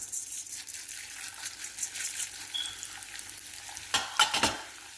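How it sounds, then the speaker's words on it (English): Urad dal dropped into hot oil in an iron kadai, giving a soft continuous sizzle with stirring scrapes and a louder burst of frying near the end, heard alone. "Here I added 1 to 2 tablespoon of oil. In this, I'm going to add the urud dal."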